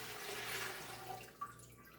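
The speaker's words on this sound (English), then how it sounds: "we're going to fill our pot with water." Water streams into a pressure canner pot, a faint steady rush and splash that thins toward the end, with a small drip-like knock near the finish.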